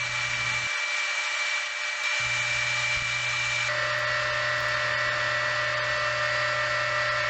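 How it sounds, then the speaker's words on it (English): Steady whirring hum of a spinning lathe while a purpleheart and yellowheart woodturning is sanded through grits from 60 to 1000, with a soft continuous abrasive hiss throughout and a brief dip in the low drone. "And I sand all the way from 60 grit to"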